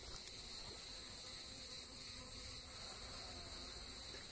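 Honey bees buzz steadily in an open hive during an inspection, a dense, continuous drone close by with a faint voice barely present underneath.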